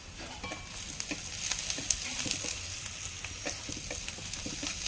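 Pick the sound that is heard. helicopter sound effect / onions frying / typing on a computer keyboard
onions frying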